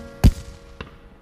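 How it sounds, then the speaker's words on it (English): A cartoon firework bursts with one loud, sharp bang, followed a moment later by a fainter second pop, with no talking. "The fireworks are really loud"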